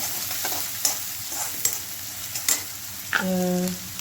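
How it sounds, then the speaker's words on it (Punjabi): A tempering of mustard seeds, cumin, asafoetida and finely chopped onion sizzles in hot oil in a pan for a potato dosa filling, with sharp scraping stirs and a steady frying hiss, loud and close. "ਇਹ ਉਹਨਾਂ ਦਾ ਜਿਹੜਾ ਤੜਕਾ ਹੈ ਰੈਡੀ ਹੋ ਰਿਹਾ"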